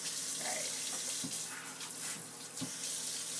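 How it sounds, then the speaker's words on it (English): Water sprays from a garden hose onto the tops of cans, a close, steady hissing rush with a couple of brief splashy bursts, no talking. "We're going to wash the top of the cans"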